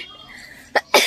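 Two short, harsh coughs from a person with a cold burst out one after another over faint background noise, loud and close.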